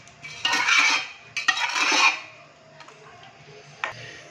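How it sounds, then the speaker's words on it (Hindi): Cooked beef being moved into an open pot or kadhai: metal spoon scrapes and clinks against the vessel in two short bursts, then a few light taps, close up with no talk. "तो अभी हम इसको खुले से बर्तन के अंदर ट्रांसफ़र करेंगे।"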